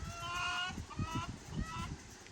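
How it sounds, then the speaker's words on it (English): Soft, low clucking from a hen, a few short bursts over a couple of seconds, with faint background noise and distant higher tones. "that would be Miss Chicken Tender speaking to say hello"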